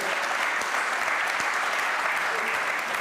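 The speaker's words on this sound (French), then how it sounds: "je vous demande d'applaudir nos invités de cette première table ronde" Warm, steady applause from the audience of a medical debate thanks the guests of a round-table discussion, a dense continuous clapping with no pauses throughout.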